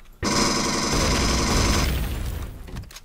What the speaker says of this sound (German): Was war das denn für eine Explosion?